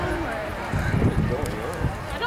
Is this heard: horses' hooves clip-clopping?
yes